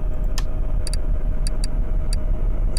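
2005 Ford GT heard from inside the cabin, its engine idling as a steady low rumble, with a light ticking clicking at irregular intervals over it and no talking.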